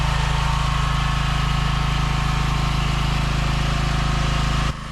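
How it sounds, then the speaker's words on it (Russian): A petrol generator engine runs inside a soundproof enclosure, a loud, steady idling drone with low rhythmic pulsing that holds throughout and drops slightly right at the end. "самое время посмотреть, как работает внутри генератор"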